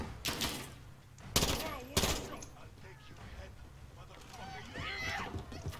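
Several sharp gunshot bursts ring out amid game-like ambience in Call of Duty: Modern Warfare, with voices talking throughout and a few louder cracks standing out.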